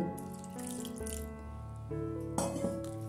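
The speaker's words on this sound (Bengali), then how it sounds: "এবার আমি একটু করে জল এখানে অ্যাড করব।" Water running from a tap and splashing into a bowl of thick moong dal batter, a steady wash of flow that swells louder toward the end, with no one speaking.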